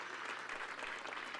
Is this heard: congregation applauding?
yes